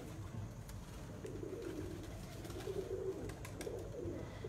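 A racing pigeon coos softly after landing, low rolling coos repeating under a faint outdoor background hiss, modest in level.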